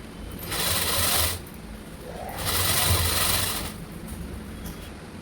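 A sewing machine stitching the neckline of a blouse, two close, steady whirring runs of rapid stitching with a short pause between, fairly quiet with no talking.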